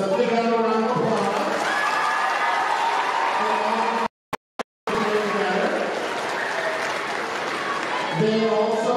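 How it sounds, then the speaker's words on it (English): Applause with some cheering from an audience at a school variety show, loud and continuous, cut by a short silent gap, while voices carry over the clapping. "So Ms. Lancia and Ms. Fielder, let's give them a round of applause."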